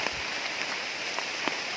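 Heavy rain falling in a forest while gathering mushrooms, a dense, steady patter of drops close by on leaves and ground with a few louder individual hits.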